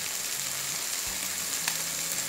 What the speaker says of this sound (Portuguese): você vai fritar ela bem, né, com uma cebola média picada